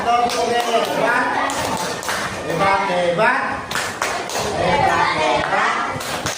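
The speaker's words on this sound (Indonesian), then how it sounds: "Tepuk tangan dulu buat kelompok Bunga Rafflesia." Students in a classroom clap for a presenting group during an Islamic religious education lesson, a busy mix of close hand claps and chatter, with several voices talking and calling out over the clapping.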